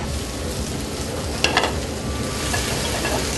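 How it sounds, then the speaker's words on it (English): Chicken frying in a diner kitchen in Albuquerque, a loud, steady sizzle of hot oil with a couple of sharp clatters and stirring noises partway through, no talking. "Typically, how long does it take to fry that chicken on either side?"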